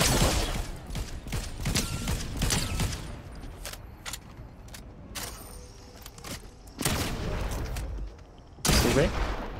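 Gunfire in the video game Fortnite, bursts of sharp shots in rapid clusters separated by short quieter gaps, fairly close and loud, with game mechanical clatter in between.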